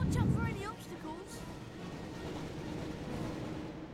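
Train in the PS1 video game Harry Potter and the Chamber of Secrets, a steady rumbling rush of rail noise that runs throughout, with a voice speaking over the first second or so.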